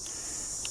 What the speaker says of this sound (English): Cicadas are trying to, you know, talk while I'm trying to film a video.